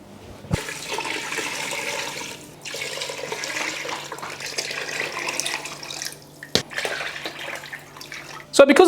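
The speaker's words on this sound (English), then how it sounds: "Just fill it up with water." Tap water runs steadily into a stock pot in a home kitchen, a continuous splashing rush that stops briefly and resumes, ending in a clunk.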